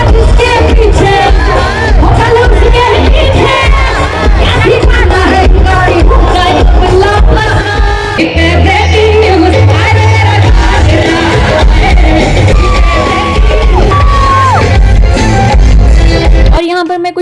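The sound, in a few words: large crowd at an arts centre during Dussehra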